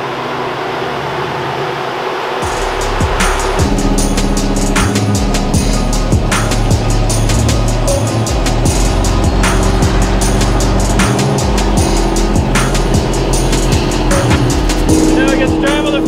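A freshly painted Ford F100 pickup on a road trip, its engine starting up and settling into a loud, steady drone with a low rumble and rhythmic ticking as it drives along the road.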